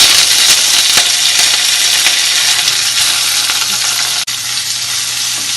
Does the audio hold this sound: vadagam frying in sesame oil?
yes